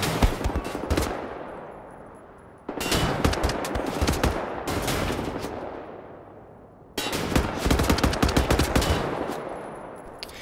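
Automatic gunfire from Wolfenstein: The New Order, loud and close, coming in three long sustained bursts separated by brief abrupt breaks, with no talk.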